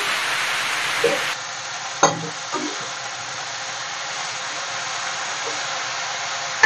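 Spinach and soya methi added to fried potatoes in a hot pan, a steady frying sizzle with a few soft knocks and stirring clacks, no talking.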